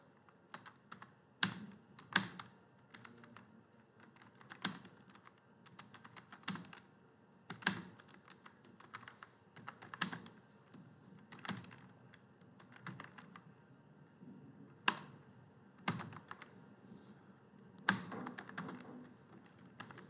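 Fingers type on a computer keyboard while CV text is entered in MS Word, producing close, fairly quiet key clicks in irregular bursts with occasional sharper taps, like the space bar or Enter key, and short pauses between.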